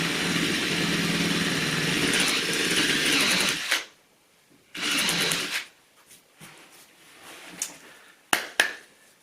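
A power drill drives screws into a wooden super king size bed frame, whirring loudly and steadily for a few seconds, then stopping and starting in short bursts with clicks and knocks between.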